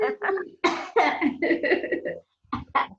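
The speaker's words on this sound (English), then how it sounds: "and then now I'm coughing" Several harsh, close coughs in quick bursts, with a short pause before two more coughs at the end.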